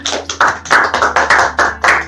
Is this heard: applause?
yes